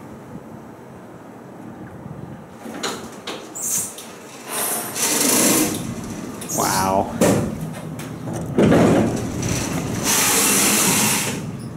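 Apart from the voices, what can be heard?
old Otis hydraulic elevator door scraping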